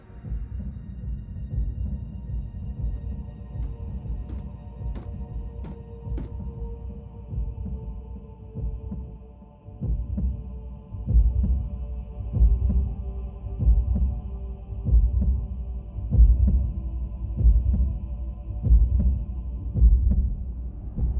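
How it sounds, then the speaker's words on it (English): A Cybertronian heartbeat rendered from data as sound: deep, booming double thumps pulse steadily under a low hum, growing louder and heavier in the second half, with no voices. "A Cybertronian heartbeat? How is that possible?"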